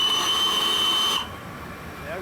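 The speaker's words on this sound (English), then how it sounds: "Whistle." Steam whistle of the Flying Scotsman locomotive, heard from the footplate: a loud, steady, shrill multi-tone blast lasting about a second that cuts off abruptly, leaving a lower rumble and hiss underneath.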